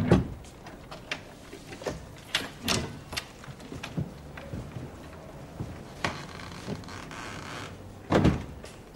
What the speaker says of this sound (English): Open the door, please.